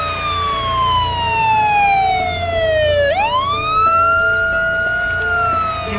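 A police car siren wails loud and close, its tone sweeping steadily downward for several seconds, then jumping and rising again, over a low vehicle rumble.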